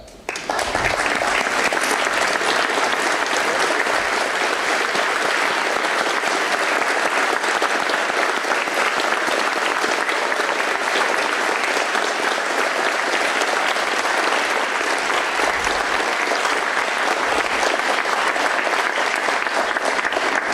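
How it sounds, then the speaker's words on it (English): A large audience at a 9/11 memorial event applauds steadily and loudly, a dense wash of clapping that holds without a break for about twenty seconds. "please stand for a round of applause"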